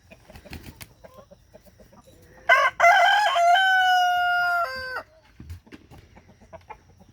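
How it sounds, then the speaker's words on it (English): Chickens and roosters in a backyard flock; a single loud rooster crow rings out for about two seconds, preceded by a brief squawk, with soft clucking and yard noise before and after. "look at them chickens out there being chickens."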